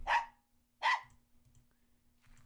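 A dog barks twice in quick succession at close range, two loud sharp barks, followed by quieter low rumbling and handling noise.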